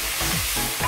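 Tomatoes and tomato paste sizzle in hot oil while being stirred for vegetable pilau, a dense close frying hiss lasting under a second with no voices.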